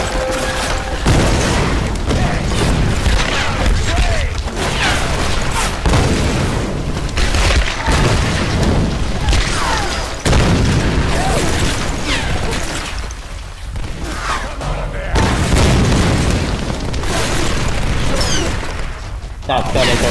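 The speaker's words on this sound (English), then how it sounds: "That's got a grenade launcher." Grenade launcher blasts in the video game Tomb Raider, a dense run of loud, booming explosions one after another over about twenty seconds, with bursts of gunfire-like pops and voices speaking throughout.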